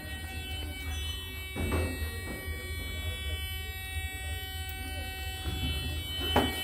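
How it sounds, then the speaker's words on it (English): An Otis Series 5 hydraulic elevator's fire service buzzer drones continuously during fire recall, with a few thumps and faint background voices around it. "You hear the buzzer going off."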